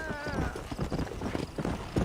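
Horse hooves in Red Dead Redemption clop in a quick, rhythmic gallop, close and fairly loud, with a brief whinny-like tone at the start.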